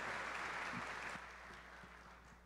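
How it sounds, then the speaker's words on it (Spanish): Applause from a church congregation welcoming a visiting pastor from Spain to the stage, a dense, steady roar of many hands clapping that slowly eases off toward the end. "desde España a Jesús Londoño, a quien recibimos con un fortísimo aplauso"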